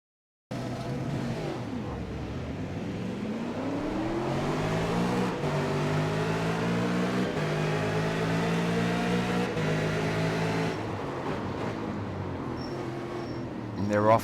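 Engines of V8 race cars in a racing video game roar together at a race start at Interlagos, rising in pitch as they accelerate; a loud, continuous drone that builds steadily, then cuts off abruptly near the end.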